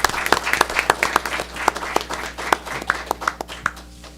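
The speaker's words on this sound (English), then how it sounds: "I would like to ask us to give them a round of applause" An audience at a board meeting applauds in a dense burst of clapping from many people, with individual sharp claps standing out. The applause tapers off toward the end.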